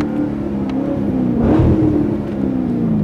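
A car engine revving loudly and close, a steady throaty roar that swells once in the middle and then settles back, with nothing else heard over it.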